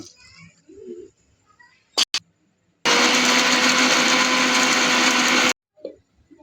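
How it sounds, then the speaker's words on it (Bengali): A mixer grinder blends cumin, coriander, cardamom, onion and ginger with a little water into spice paste for snail curry, a loud steady whirring burst of about three seconds between quiet clicks and handling sounds. "এইগুলাকে এখন আমরা বাটবো মিক্সিয়ে।"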